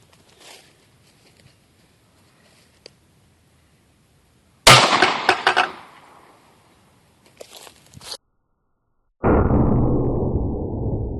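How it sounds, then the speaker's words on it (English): A Taurus Millennium .45 pistol fires a single sharp, loud shot into ballistic gel, the crack decaying into a short rattle. Quiet stretches and small knocks surround it, and a steady hiss comes in near the end. "The next gun we'll be using is a Taurus Millennium 45."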